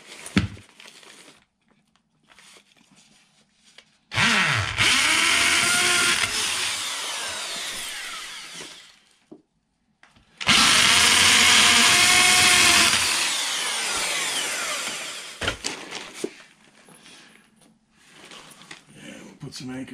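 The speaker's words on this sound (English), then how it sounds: "we're going to go through with a hammer drill." A hammer drill boring through a wall for anchors during drywall repair around an AC unit, two long, loud, close bursts of grinding drilling separated by a short pause, with quieter handling sounds around them.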